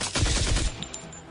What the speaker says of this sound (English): Clara fires her autocannon at the ooze.